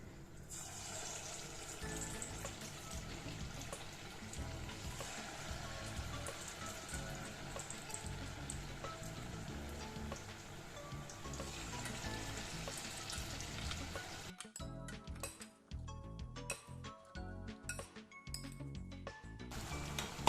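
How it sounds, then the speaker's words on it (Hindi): Spice-coated baby potatoes frying in hot oil over a medium-high flame make a steady, rain-like crackling hiss, then give way to sparser spatters and metallic clinks near the end. "अब जो भी पोटैटोज हमने ऐसे कोट किए थे मैं उसे डाल दूंगी ऑयल में फ्राई करने के लिए"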